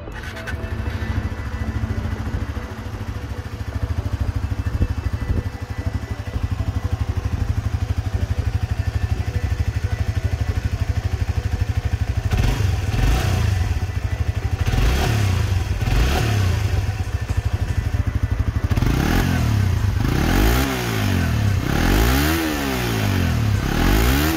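A Suzuki GSX-R 150 sport motorcycle with a six-speed gearbox and emissions-compliant exhaust idles steadily, then revs repeatedly in sharp rising and falling bursts near the end, loud and close.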